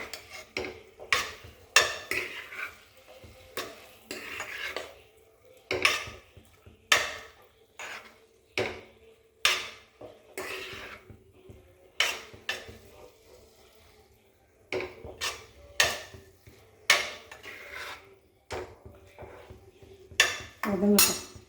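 Metal utensil scraping and clinking against a pan in irregular strokes while sautéing vegetables for vegetable kurma, with sizzling underneath, close and moderately loud.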